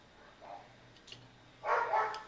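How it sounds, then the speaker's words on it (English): A pet dog gives one short, fairly close bark or yip toward the end, after a few faint whimper-like sounds over quiet room noise. "Whose dog is that? It wants to be on the podcast too."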